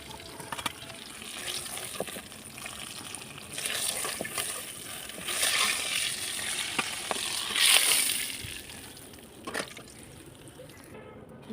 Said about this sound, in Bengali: আমার মাছগুলো ভাজা হয়ে গেছে এখন নামিয়ে নিতেছি এক এক করে